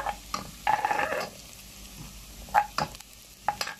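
Ingredients sauté in a pan while misua is being cooked. A soft sizzle runs under intermittent scraping and stirring strokes, close and fairly quiet.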